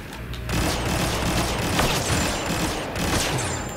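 A grenade explodes in Star Wars Battlefront II multiplayer, a sudden loud burst followed by a dense, crackling rumble of blasts and gunfire that continues for several seconds.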